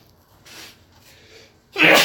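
A single loud, close sneeze bursts out at the very end after a near-silent room with faint breathy rustles.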